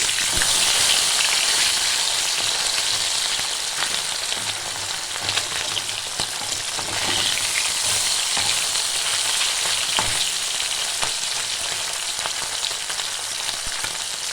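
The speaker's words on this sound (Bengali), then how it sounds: "এই মাছগুলো উল্টে দিচ্ছি।" Bata fish, just turned over, fry steadily in hot mustard oil, a dense continuous crackling sizzle held close and loud throughout with scattered sharper pops.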